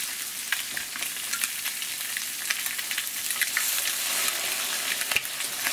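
Sculpin pieces stir-fried in a pan with sugar and mirin, giving a continuous close sizzle and crackle with scattered scraping stirs, and no talk.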